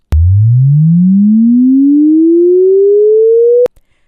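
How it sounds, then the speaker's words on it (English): A pure sine tone sweeps smoothly upward in pitch from 20 Hz to 20 kHz, a deep bass hum rising to a high whine, loud and steady, then cuts off abruptly. "we played a chirp, which is a sine wave that sweeps from 20 Hz to 20 kHz"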